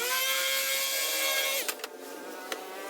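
A power sander sanding wood whines steadily at high pitch, then cuts out, leaving a few light taps and faint handling noises.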